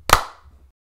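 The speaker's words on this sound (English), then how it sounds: "how about we clap on a 1," Hands clap together once on a count of three, a single sharp close clap with a short decaying ring and nothing after.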